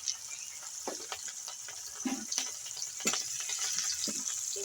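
Garlic, ginger, green chilli and dried red chilli frying in oil left over from frying fish pieces, a steady close sizzle with occasional stirring clatter throughout, no talking.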